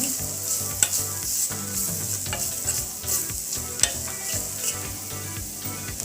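Onion kachuria filling of onion, boiled potato and salt is stirred as it fries in a pan: a continuous sizzle broken by repeated scraping stirs and a couple of sharper knocks against the pan.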